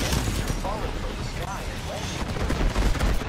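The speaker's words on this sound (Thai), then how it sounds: "ซ้ายมีคนยิงใส่เราแต่ว่ามันยิงไม่ถึง" Dense gunfire from enemies in the battle-royale shooter Apex Legends, steady bursts filling the whole stretch under a speaking voice, growing louder near the end.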